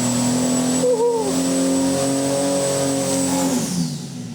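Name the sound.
turbo Ford 300 inline six engine on dyno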